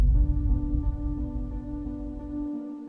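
Lead piano notes sustaining and fading alone with no low bass piano accompaniment underneath, a soft, sparse passage from a sci-fi trailer score.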